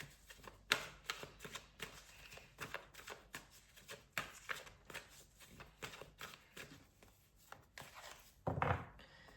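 Oracle cards being shuffled by hand, a run of dry papery riffles and slaps that come in quick uneven bursts, close and fairly quiet, with a louder flurry near the end and no talking.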